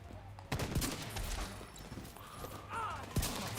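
An automated turret fires in The Division 2, bursts of rapid gunfire and sharp shots mixed with mechanical clatter in a game firefight, fairly loud, with speech at times.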